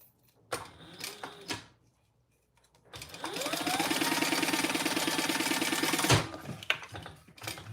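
A sewing machine stitches down the side of a Darling wallet in one steady, loud run of rapid stitching, with brief handling noises and short taps before and after.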